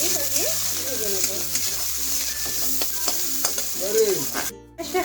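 Chopped onion being stirred and fried in a pan, a close steady sizzle with repeated scraping strokes of a spatula, and faint speech at moments.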